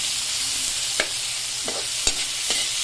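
Tomatoes sauté in a hot pan with a steady, airy sizzle, broken by a few sharp scrapes and taps of a spatula stirring them, close and clear with no voices.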